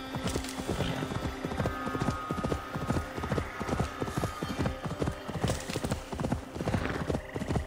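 Horse hooves clip-clop steadily in the video game Assassin's Creed Valhalla, a loud, close, rhythmic gallop of repeated strikes throughout, with a brief whinny and faint background sounds.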